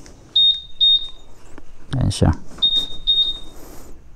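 A 2020 Honda Click 150i scooter's locator answers a remote button press with two pairs of sharp, high electronic beeps, the second pair starting after someone speaks briefly between them.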